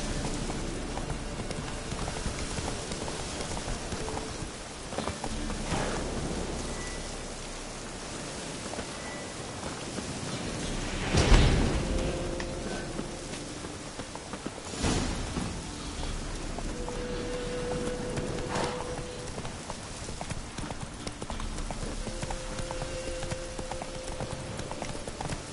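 Roach, a horse in The Witcher, gallops with a fast, continuous clip-clop of hooves over a hissing, rain-like wash, with a couple of louder bursts partway through.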